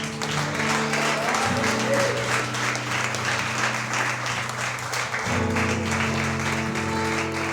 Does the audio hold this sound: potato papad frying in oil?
no